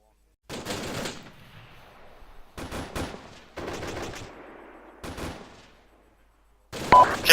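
Heavy machine gun fire in a military video game comes in roughly five loud, rapid bursts separated by short pauses, each trailing off into a rumbling echo.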